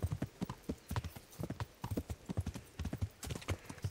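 Horse hooves clip-clop in a steady, brisk rhythm in the medieval role-playing game Kingdom Come: Deliverance, sharp close hoof strikes repeating throughout with no voice over them.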